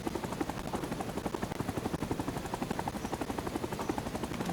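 Helicopter rotor noise from a flight simulator game as the aircraft sets down, a fast steady chopping pulse of blades over a continuous engine whine, even and fairly quiet.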